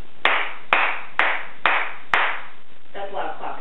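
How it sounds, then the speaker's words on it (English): A single person claps five times, sharp and loud, at a steady, slightly spaced rhythm, each clap ringing briefly in the room, followed by a short stretch of talking. "that's loud clapping"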